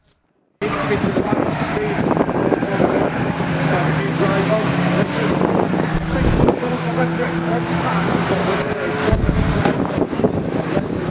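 Racing cars lapping the Knockhill circuit, a continuous loud engine roar with wind buffeting and shifting pitch, briefly dipping and surging as gears change.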